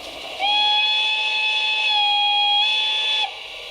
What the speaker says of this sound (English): European trains like that have a distinctive sound to their whistle